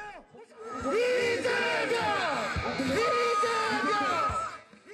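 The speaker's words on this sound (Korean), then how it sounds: "이재명 민주당 대표가 수원지검 성남지청 정문 앞에 도착하자 지지자들이 환호합니다." A crowd of supporters outside the Seongnam branch of the Suwon District Prosecutors' Office cheers and shouts loudly as Democratic Party leader Lee Jae-myung arrives, with overlapping voices, chants and whistles forming a dense, sustained roar.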